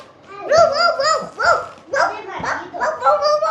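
Several people imitate dogs, yapping and barking in quick, excited bursts, overlapping one another at close range.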